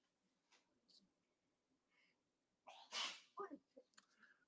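A single sharp sneeze bursts out near the mic, with quiet breathing and light handling noises around it during a live sale of leather goods and old dial phones.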